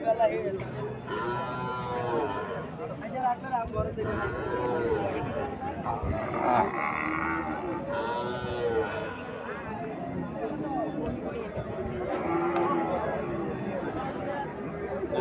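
Sahiwal cows and a bull calf at a busy livestock market, with occasional low moos blending into constant close crowd chatter and haggling voices.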